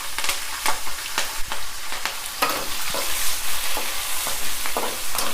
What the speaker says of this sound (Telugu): ఇవి కూడా దోరగా వేయించుకోవాలి.